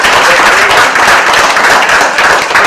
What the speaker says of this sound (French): je demande de l'applaudir parce qu'il est souvent dans l'ombre